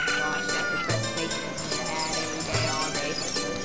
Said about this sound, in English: What the hell is going on with this cat?